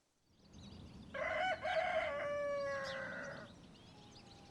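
A rooster on its perch crows one long, clear cock-a-doodle-doo at a farm, loud against a steady outdoor hiss, then fades.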